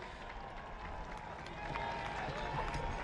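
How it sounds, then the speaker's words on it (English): Spectators lining the route of a SWAT challenge course in the UAE applaud and cheer a finishing team, a steady broad patter of clapping from a crowd that swells slightly toward the end. "A round of applause from those lining the route."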